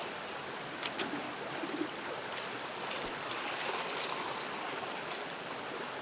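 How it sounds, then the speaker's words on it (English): Creek water splashes and rushes over rocks in a Gold Rush Nugget bucket while prospecting on Las Huertas Creek, a continuous near wash with a few sharper splashes early on and no talking. "Get some water in the white bucket. And we wash off those rocks."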